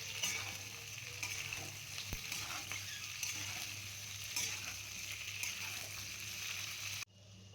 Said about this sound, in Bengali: আমি এখানে পেঁয়াজ আর কেটে রাখা ওই ক্যাপসিকামটা দিয়ে দিই। তো সেটাকে ভালো মতো করে ভেজে নিতে হবে